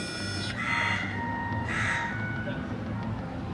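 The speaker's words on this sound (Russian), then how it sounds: "Смотрите, какая птичка." Two harsh, crow-like caws from a bird outdoors on a holiday in Egypt, spaced about a second apart over a low background hum.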